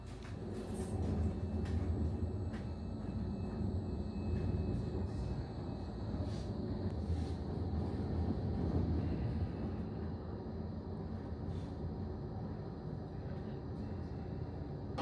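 A Bombardier Flexity 2 tram, number 015, on the Blackpool tram network rumbles steadily from inside the car, with a continuous low running drone, wheel-on-rail noise and faint higher squeals and clicks.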